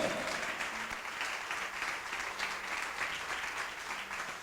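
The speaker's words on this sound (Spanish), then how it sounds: "¿Cuánto le dan un aplauso al Señor?" A church congregation applauding, sustained dense clapping from a crowd at steady volume, with a faint voice underneath.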